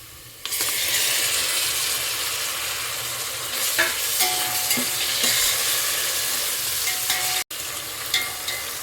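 Tomatoes frying with golden onions in a pan for chicken biryani make a loud, close sizzle with scraping stirring strokes, steady throughout apart from a brief cut near the end, and no speech.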